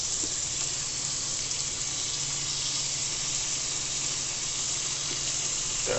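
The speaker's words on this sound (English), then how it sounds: "As I said, the cheese is melting, so that's why the sizzle. You hear that nice sizzle." Spinach and cheese stuffed chicken breast sizzles on a grill with melting cheese, giving a steady, close, even hiss that runs alone without any talk.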